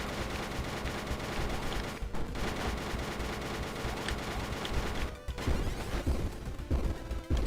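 Dense, continuous gunfire and crashing impacts from a shooting boss fight in an indie Switch video game, loud and steady throughout with brief dips and no talking.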